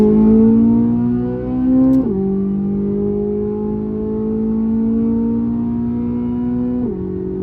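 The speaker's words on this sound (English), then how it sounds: "Now I'll hit the gas." A Corvette C8 Z06 engine under throttle, giving a loud, close, steady droning roar. Its pitch climbs slowly, then drops sharply at two upshifts about five seconds apart.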